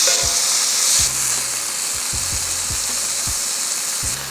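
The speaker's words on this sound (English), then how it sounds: "use this heavy, smaller cast iron skillet to press down and force those steaks to get friendly with that cast iron" Steaks sear in a cast iron skillet while a heavy, smaller cast iron skillet presses them down, making a loud constant sizzle close by with repeated low thuds and knocks of metal on metal.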